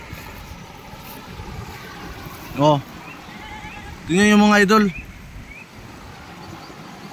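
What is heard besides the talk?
flowing water in a rural stream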